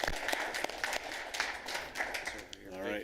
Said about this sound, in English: Round of applause from us as a city commission.